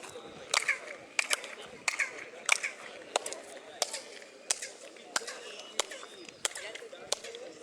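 Hand claps echoing off the stepped stone pyramid at Chichen Itza, returning a chirping quetzal-like bird call; about a dozen sharp claps at roughly even intervals, each followed by a brief bright echo, with people talking quietly in the background.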